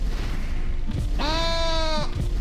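A sheep in the Rain on Your Parade video game lets out one clear, drawn-out bleat lasting under a second, loud and close, following low background rumbles and game noise.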